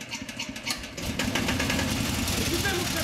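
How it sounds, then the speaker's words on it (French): Old car engine in a stage play cranking with uneven chugs, then catching into a steady running rumble, heard over continuous stage speech. "Écoutez, mon cher frère, comme le moteur parvient."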